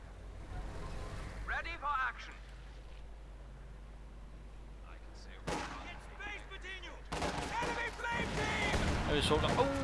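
Artillery shells from a Company of Heroes 2 World War II strategy battle land in loud, booming bursts, with scattered gunfire and rumble between them. A commentator talks over the battle throughout.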